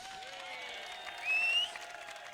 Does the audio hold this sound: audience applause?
yes